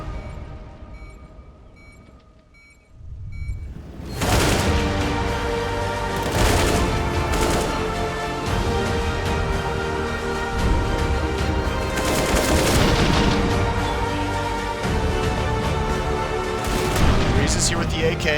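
AK rifle gunfire in a CS:GO match, dense sustained bursts of automatic shots starting after a quiet opening and continuing loud and close throughout, with a commentator talking over it.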